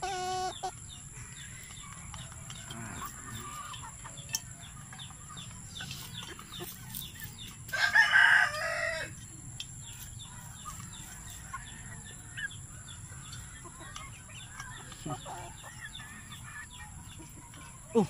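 Kabir crossbreed heritage chickens in a farm pen, soft scattered clucks under a steady background hum, with one louder, longer call rising briefly midway.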